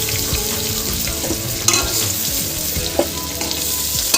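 Potatoes fry in hot oil with a loud, steady sizzle, broken by a few soft clicks and scrapes as they are stirred in the pan.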